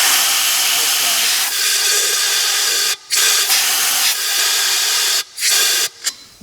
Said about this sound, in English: I was taking my compressed air and blowing it inside here.